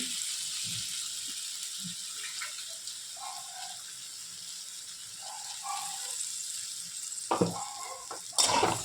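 Okra and potato curry sautéing in a covered pan, a faint, steady sizzle running throughout, with a couple of brief louder clatters near the end.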